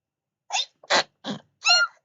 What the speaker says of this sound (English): Just needed to sneeze then